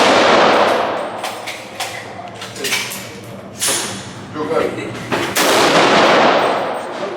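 Gunfire from rifles and pistols at an outdoor shooting range during a zeroing session, loud sharp reports repeating several times over about seven seconds, with people talking between the shots.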